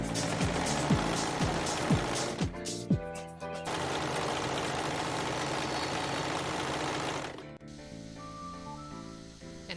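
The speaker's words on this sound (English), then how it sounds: "I'm gonna take it to the sewing machine and sew it up." A sewing machine stitches the sleeves of a fitted bodysuit together: a few short stop-start bursts lead into a loud, continuous mechanical whir of several seconds, which then stops abruptly.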